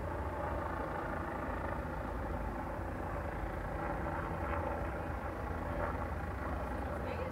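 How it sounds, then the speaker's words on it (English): A police helicopter hovers over a curfew area in the evening, its rotor a steady low drone that stays constant and moderately distant throughout, with faint traffic noise beneath. "the police helicopter is up"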